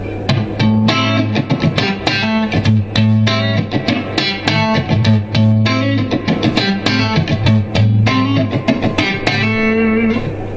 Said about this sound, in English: Now I set this up for like a Fender Blackface sort of sound